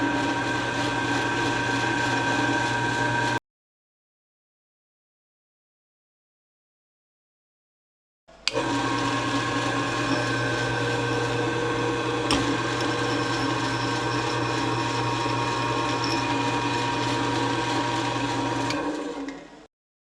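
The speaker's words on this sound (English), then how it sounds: "I'm going to drill both sides of this with my drill press" A drill press bores into steel with steel bits, a steady loud motor hum and grinding whine that runs, cuts out completely for several seconds, then resumes and winds down at the end.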